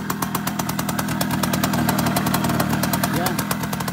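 Engine idling steadily after sitting unused for six months, a fast even chugging knock with a rough mechanical rattle, close and continuous, with someone talking over it.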